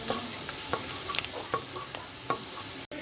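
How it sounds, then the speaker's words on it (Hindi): Chopped garlic and ginger fry in a pan for a lemon pepper chicken. A brief, steady sizzle carries a few soft stirring taps and no voices. "गार्लिक चॉप देंगे और जिंजर चॉप। अब हम 2 मिनट के लिए फ्राई करेंगे"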